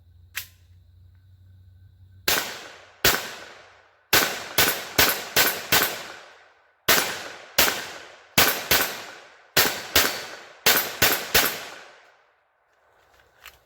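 Kel-Tec P17 pistol firing Winchester M22 40 grain black tip rounds, about seventeen sharp, loud shots in quick irregular strings, each followed by a short echo and then a pause.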